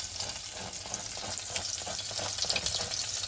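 A papad omelette taco fries crisp in a pan with a lively, close sizzle, crackling and popping steadily while a spatula turns it in quick strokes.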